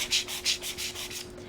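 Light hand sanding on a painted stencil project rubs in a steady back-and-forth rhythm, about six short scratchy strokes close by and fairly quiet, to erase a paint blob.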